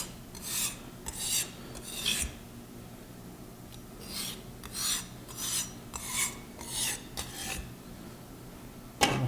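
A kitchen knife drawn repeatedly across a sharpening steel or stone, producing rhythmic rasping strokes with short pauses between them, close and fairly loud, with no talk over it.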